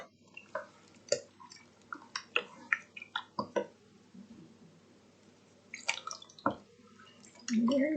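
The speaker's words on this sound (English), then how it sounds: "And I'm going to add 2 cans of diced tomatoes. And I'm not going to drain those." Two cans of undrained diced tomatoes being poured into a pot, giving wet plops, drips and squishy splashes in irregular bursts, close and fairly quiet.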